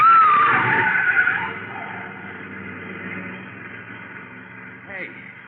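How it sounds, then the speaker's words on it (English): A car skids loudly on a gravel road in an old-time radio drama, with a long tire squeal that fades away, followed by a brief faint scrape near the end. "that car was trying to run us down"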